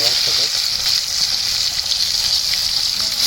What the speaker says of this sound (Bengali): এই গোশ দিলাম আমরা ভাজার উদ্দেশ্যে, এর ভিতরে ছাড়ি দিলাম।